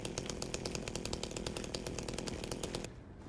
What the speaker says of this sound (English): if this chainsaw's anything like it is in the original